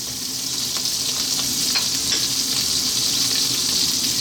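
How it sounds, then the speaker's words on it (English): Celery, onion and carrots or pumpkin dropped into a hot pot with a little olive oil for broccoli cheese soup, a loud continuous hiss of sizzling vegetables up close with faint stirring ticks. "Let's drop in our celery, our onion, our pumpkin or carrots if you wanted"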